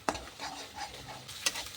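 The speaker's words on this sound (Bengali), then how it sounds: "আমি 1 মিনিট মতো ভালো করে নাড়াচাড়া করে কষিয়ে নেব" Chili powder and spices are stirred and sautéed in a pan for a potato dum, giving a quiet sizzle under a brief scrape, with two sharp clinks of a utensil on the pan.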